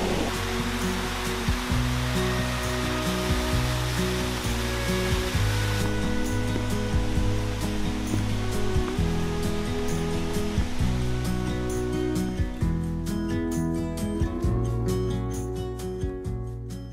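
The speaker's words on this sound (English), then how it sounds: "this is the Cascade on Falls Creek." The Cascade waterfall on Falls Creek along the Blue Ridge Parkway, a steady broadband rush of falling water, loud and close, with brief clicks and knocks over it late on.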